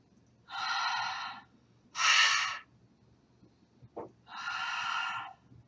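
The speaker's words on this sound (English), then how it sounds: "exhale with a little huh sound" Breathy exhales with a soft huh sound onto a hand: three airy bursts spaced about a second apart, hushed and close, with a quick inhale between the second and third.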